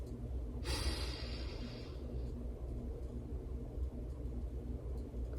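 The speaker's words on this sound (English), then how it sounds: "So take a deep breath in with me." One deep breath is drawn in close to the microphone, a breathy rush lasting about a second, then fades into quiet low room rumble.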